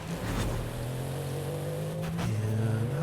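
A BMW X5 engine drives in a racing video game, a steady droning hum whose pitch climbs, dips as the gear changes, then climbs again. It plays continuously and up close, with no talking.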